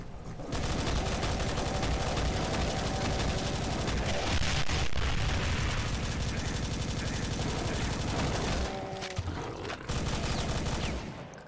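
Continuous rapid machine gun fire from Brutal Doom on ultra-violent difficulty hammers away at close range for nearly the whole stretch, a dense unbroken fusillade with only a brief dip near the end.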